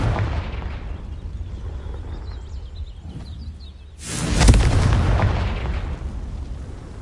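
A Confringo blasting spell is cast in the Hogwarts Legacy video game, with a low rumbling ambience before one loud explosive boom bursts out midway and rolls on as a sustained roar.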